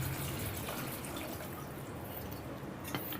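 Water is poured into a pan of drumstick tomato curry, making a steady, low splashing gush throughout, with a faint clink near the end.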